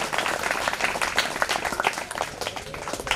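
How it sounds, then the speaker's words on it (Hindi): A school family applauds to welcome guests at a teacher's retirement function in Bhilwara, a dense, steady crowd clapping for a few seconds. "एक बार ताली बजाकर सभी विद्यालय परिवार की ओर से स्वागत।"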